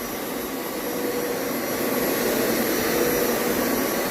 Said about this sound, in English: I'm just sucking up the cleaner I put on there.